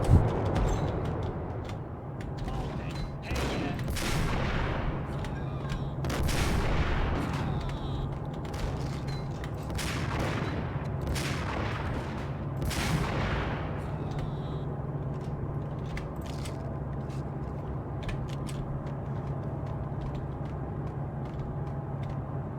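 Gunfire in the video game Max Payne: several sharp shots in a loose series over a steady low rumble of game ambience, with no voices.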